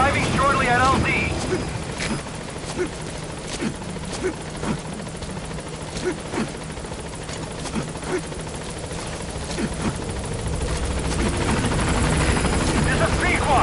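A video game helicopter, Pequod, approaches a landing zone with a loud, continuous rotor thrum and whine that holds steady and swells slightly near the end, with a radio voice speaking over it early on.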